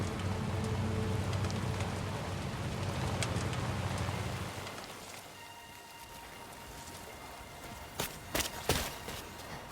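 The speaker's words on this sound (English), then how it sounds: "Is it normal rain or is it timefall?" Steady rain, called timefall, falls across the scene in Death Stranding 2: On the Beach as a dense, even hiss for the first half, then thins to a quieter patter with a few sharp, louder drop-like hits near the end, with no voices.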